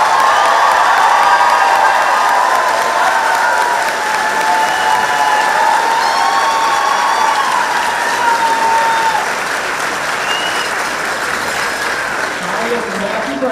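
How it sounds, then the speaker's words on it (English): A high school graduation crowd at Robert E. Fitch High School breaks into loud, sustained applause with cheers and whoops on top, filling the hall for more than thirteen seconds before easing slightly. "One more round of applause."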